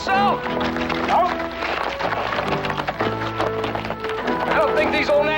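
Horses trot over hard, rough country, a steady clip-clop of hooves running throughout under music and a voice speaking.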